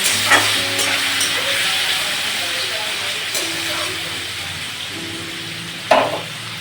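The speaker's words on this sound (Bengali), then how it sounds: "আলুটা ভেজে নিচ্ছি" Oil sizzles steadily in a pan while potatoes fry, with a few scraping stirs and brief voices in the background.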